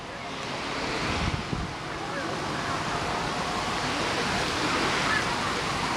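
Sea waves rolling onto Bang Saen beach in Chonburi, a steady broad wash of surf mixed with gusty wind buffeting the microphone, continuous and fairly loud throughout with no clear voices.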